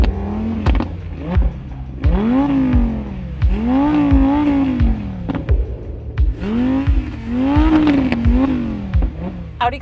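An Audi R8 Plus V10 engine revs hard in repeated rising wails, each climbing and dropping back, loud and close with a sharp, high-pitched howl.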